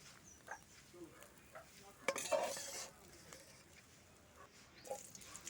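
A metal spatula scrapes and clinks against a wok while scooping broken pieces of fried egg out, with a faint sizzle of oil underneath and one louder scraping burst in the middle.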